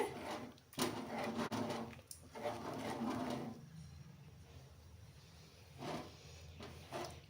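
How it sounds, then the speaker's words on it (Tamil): Cooked spinach and lentils churned by hand with a wooden mathu in a pot, giving bursts of rough, rhythmic scraping and swishing separated by short pauses, close and fairly quiet. "இது நல்லா மத்து வச்சு கடைஞ்சி எடுத்துக்கலாம்"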